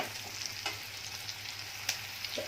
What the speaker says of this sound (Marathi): थोडी शिमला मिरची मऊसर होईपर्यंत तेलामध्ये परतून घ्यायची